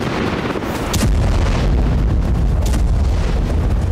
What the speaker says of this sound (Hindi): K9 वज्र की तरह ही धनुष तोप भी दूर तक मार करती है।